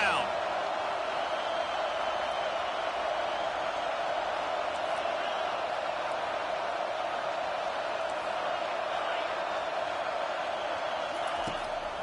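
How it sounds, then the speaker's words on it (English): Stadium crowd roar in the NCAA College Football 25 video game as fans back the defense on third down, a loud, dense wash of noise that holds steady throughout. "Decibels rising as the crowd gets behind this defense on 3rd down."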